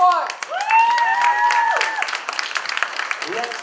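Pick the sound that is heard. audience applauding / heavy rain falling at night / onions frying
audience applauding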